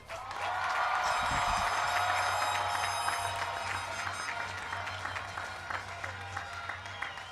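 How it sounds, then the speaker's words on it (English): A crowd at a high school graduation ceremony claps and cheers steadily, a broad sustained wash of applause with scattered whoops, heard at a distance and moderately loud, with some faint talk mixed in. "I'm going to ask the crowd one more time, and a great big hoot and holler."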